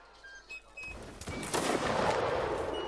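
A musket volley in the Mount & Blade Warband Napoleonic Wars game booms out, a sharp crack swelling into a broad rolling blast that lingers and slowly fades.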